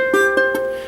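A single guitar chord rings out, strummed with a couple of quick attacks, sustaining cleanly and close, with no talking.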